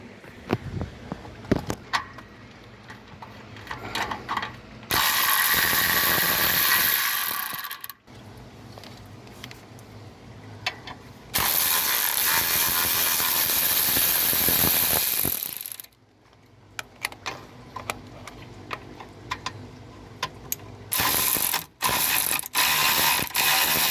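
A ratchet wrench works loose 12 mm and 10 mm bolts on an engine hose of a 2006 Toyota RAV4 V6 4x4, with bursts of rapid clicking ratcheting, metallic clinks and handling noises, close and with no talking.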